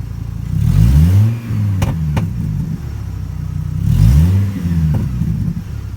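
A 2012 Chevy Colorado LT 4x4 running without a muffler, revved twice from a raspy idle, each rev rising sharply and falling back, loud and close, with a couple of sharp clicks between.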